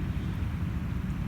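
Steady wind blowing across an open field on a fall evening hunt, a constant low rumbling roar buffeting close to the microphone with no other sounds.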